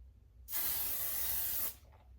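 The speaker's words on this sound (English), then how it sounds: "So I sprayed it on my face." L'Oréal Infallible setting spray mists onto a face in one steady, close hiss lasting about a second, with quiet room tone before and after.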